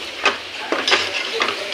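Lamb lung masala tossed with mint and coriander in a pan: a spoon stirs and scrapes in a few quick strokes, close and distinct, over a soft, steady sizzle.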